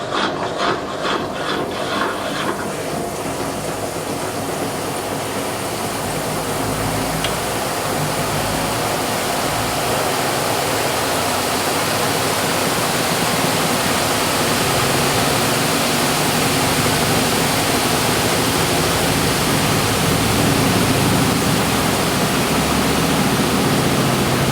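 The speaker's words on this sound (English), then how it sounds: "when it does this acceleration here, you can hear all the water getting extracted in just one go" A 2002 Kelvinator K605 washing machine in a cheap cabinet accelerates into its spin, extracting water from the load with a steady, loud broadband rushing and swishing that builds and holds throughout, with no talking.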